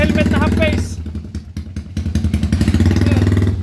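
A Honda Wave 125 motorcycle upgraded to 163cc with a 4-valve cylinder head and 60mm bore idles with a lumpy, pulsing throb, close by, under speech.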